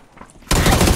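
Sudden loud burst of shotgun gunfire in a PUBG-style video game, cutting in abruptly after a quiet moment and continuing as dense rapid shots.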